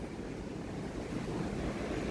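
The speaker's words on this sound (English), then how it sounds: "That's how strong those wind gusts are." Strong wind gusts during a heavy thunderstorm roar across the microphone in a dense, buffeting rush, loud and unbroken for a couple of seconds.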